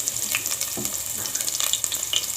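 Onion and garlic frying in oil or ghee in a cooking pot, a steady close sizzle with crackling pops and faint stirring clinks throughout, no talking.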